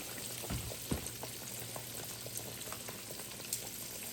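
Pork chops frying in hot grease make a soft, continuous bubbling sizzle with a few small pops and crackles scattered through it, fairly quiet.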